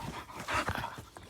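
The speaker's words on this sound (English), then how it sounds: "And Diego is one of the new dogs we've gotten, and they're currently fighting" Two dogs, one white and one black, scuffle at close range with brief growls, snuffling and panting yelps in a short, busy burst.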